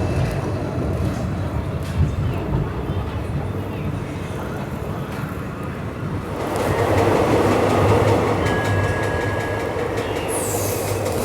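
Marathwada Express, train number 172, pulling out of Mudkhed Junction on a double electrified line, heard from inside a general class coach: a loud, steady rumble of wheels and carriage noise that swells as it gathers speed, with a thin squeal near the end.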